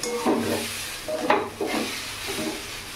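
Khichdi being stirred in a pot over a low gas flame: a few soft scraping, rubbing strokes of a spoon against the pot base, close and moderately quiet, with no voices.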